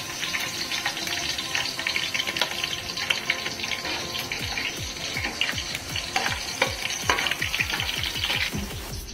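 Bay leaf and green chillies fry in hot oil in a pan, a dense continuous sizzle with crackling pops and stirring scrapes, close and steady throughout.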